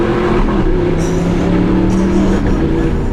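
Audi R8 V8 idles close up with the exhaust valves closed, a loud, steady low rumble with a constant hum and a couple of brief sharper blips, no talking.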